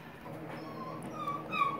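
A dog whimpers softly indoors in a thin, high, wavering whine that rises toward the end, faint and close with no talking.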